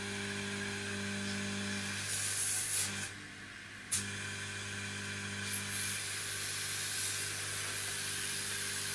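A laser air assist pump blows air through 8mm silicone hose, giving a steady, close hiss over a constant electrical hum, with a brief dip and shift in the airflow partway through.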